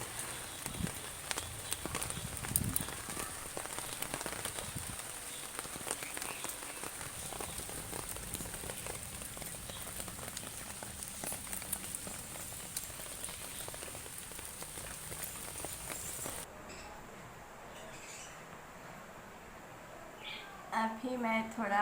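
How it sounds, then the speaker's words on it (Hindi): Steady rain falling on a home garden, an even close hiss of drops on leaves and surfaces that continues throughout and thins out in the last few seconds. "बारिश होने से आज आपको पानी नहीं देना पड़ रहा है, पेड़ों को पानी पानी हो गए ये चारों तरफ।"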